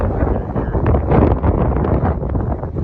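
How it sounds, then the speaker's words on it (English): Strong wind blows at Monument Valley, roaring and buffeting the microphone in a loud, continuous low rumble with gusty swells throughout. "As you can tell, the wind is really blowing, so it kind of feels great."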